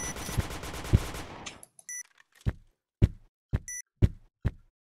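Gunfire in a shooter game, starting with a rapid automatic burst and then a series of single sharp, loud shots spaced about half a second to a second apart, with faint metallic clicks in between.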